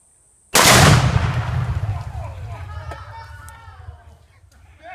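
A single loud gunshot fired at a tree cracks sharply close by, then its echo fades slowly while voices talk afterward.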